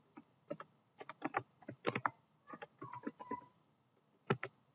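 Keys clatter on a computer keyboard as a password is entered, a close, irregular run of quick clicks in bursts with short pauses, no voices.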